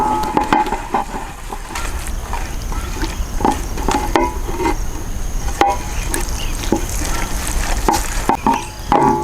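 Chicken being mixed by hand with ginger-garlic paste, lemon juice and pepper powder, a close, wet squelching and slapping that repeats in an irregular rhythm, loud and alone.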